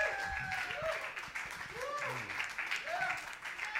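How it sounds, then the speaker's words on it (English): A live show audience in Portland applauds with scattered whoops and cheers, the clapping steady and moderately loud while voices call out over it. "Round of applause one more time for Haley Lynn and Sessions, everybody."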